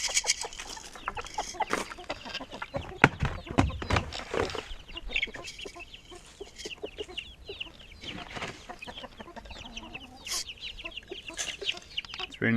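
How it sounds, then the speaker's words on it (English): Several hens cluck and murmur nearby in an irregular, chattering rhythm, with occasional sharper calls rising above the flock. "those are my chicks, my hens"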